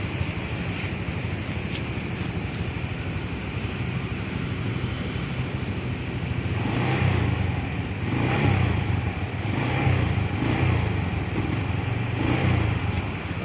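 A Suzuki Skydrive scooter engine, freshly changed oil and idling smoothly, is throttled up partway through into a louder, pulsing rev, then settles back repeatedly. It is recorded close with no talk.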